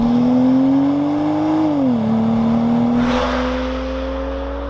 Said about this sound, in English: the stock exhaust on this N55 sounds really good